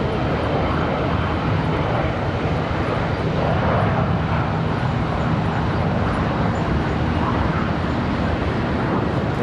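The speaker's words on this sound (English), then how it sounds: "There's that A319" An Airbus A319 airliner departing or passing at Charlotte Douglas International Airport, a loud, steady, broad jet-engine roar that holds without a break for the whole stretch.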